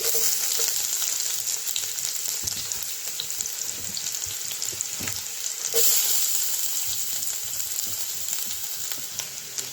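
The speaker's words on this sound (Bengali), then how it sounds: "তেলটা গরম হয়ে গেছে, তো দিয়ে দেব রসুন কুচি, পেঁয়াজ কুচি" Chopped garlic and onion hit hot refined oil and fry with a steady, loud hiss and crackle, a bright sizzle running unbroken the whole time with faint bubbling pops scattered through.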